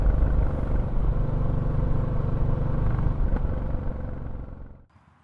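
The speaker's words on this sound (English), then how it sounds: "Definitely a little bit better than before, a little bit bassier, but the engine runs smooth." A Royal Enfield Classic 350 fitted with a DNA air filter runs smoothly with a deep, bassy, steady rumble up close, then cuts off abruptly near the end.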